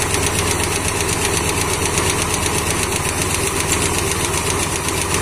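A Ford Falcon engine idles steadily with valve tapping while its valves are being adjusted, a close, continuous mechanical clatter with a fast, even ticking rhythm and no voices.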